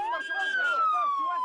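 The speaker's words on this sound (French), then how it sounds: "Les ambulances évacuent en pagaille les rares blessés." Ambulance siren during the evacuation of wounded near Ajdabiya, Libya, a loud, close, wailing tone sliding slowly downward over a short stretch, with faint voices underneath.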